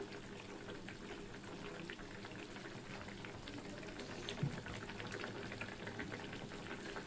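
A Maharashtra-style curry bubbles in a pot, a steady soft simmer close by with faint crackles and no one talking.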